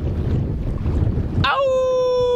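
A strong north wind howls across open water on the Thelon River in the Northwest Territories, a steady roaring rush of wind noise that gives way to a sustained high tonal whine, with no voices.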